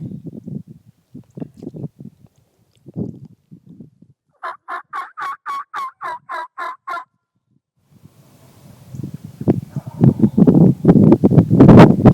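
Wild turkeys gobble at a distance from their roost, a rattling run of gobbles in the middle, surrounded by scattered clucks and a louder burst of gobbling toward the end.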